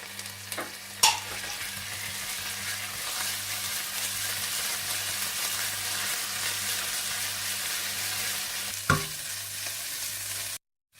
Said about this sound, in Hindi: आप इसमें पिसा हुआ अदरक लहसुन भी डाल दें और इसे भी थोड़ा सा भून लें।